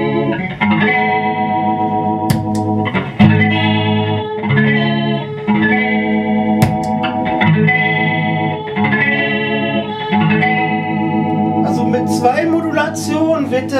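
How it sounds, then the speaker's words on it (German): A sustained chord-based instrument runs through chorus and phaser effects to simulate a Leslie rotating speaker, giving a swirling, shimmering tone with repeated chord changes and brief percussive accents, loud and close. "Jetzt kommt noch ein Phaser dazu."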